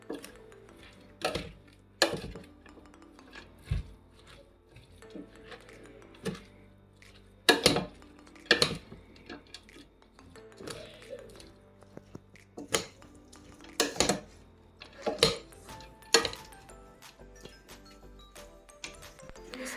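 A spoon knocks and scrapes against a bowl as cabbage salad is mixed with vinegar and fried onion, irregular sharp clinks and soft squishy stirring, close and fairly quiet with no talking.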